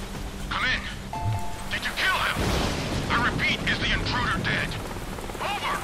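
Gunfire and blasts from the Deadpool video game crackle in dense bursts amid noisy action, with a person talking over the shooting.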